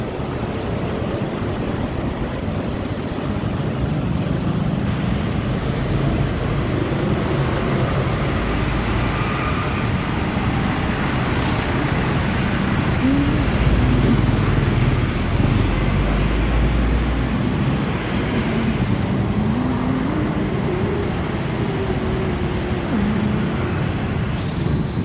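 Road traffic surrounds a night motorcycle ride as a steady low rumble of engines and tyre roar, with passing vehicles swelling and fading around the middle and wind noise throughout.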